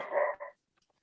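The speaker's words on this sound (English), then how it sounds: "I apologize for the barking in the background." A guard dog gives a single two-part bark or yelp, fairly close but moderate in level, followed by near silence with a few faint ticks.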